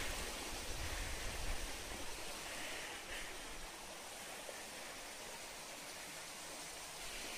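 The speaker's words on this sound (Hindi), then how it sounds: "ये यही से नीचे से झरने का पानी जाता है और नीचे गिरता है" Waterfall water rushing beneath a bridge at the Muktagiri Jain pilgrimage site, a steady dense roar of flowing and falling water, loud and unbroken throughout, with no one speaking.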